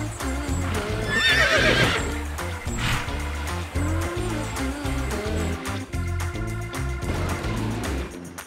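A horse whinnies loudly near the start, followed by a steady rhythmic clip-clop of hooves that continues throughout, with scattered further snorts and faint background rumble.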